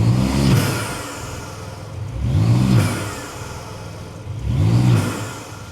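A tuned BMW M3 LCI Touring engine of over 700 hp with a ram air intake revs hard three times in a steady rhythm, each rise and fall loud and close, with a throaty roar and rasp between.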